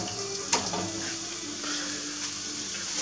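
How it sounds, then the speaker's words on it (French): Onion cooks gently in a pot for a Corsican fish stew, giving a steady, soft sizzle with one small clink of a utensil near the start. "à faire revenir notre oignon."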